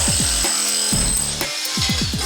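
A jackhammer breaks up loose floor tiles during a home renovation, with loud, harsh repeated bursts separated by short pauses and no talking.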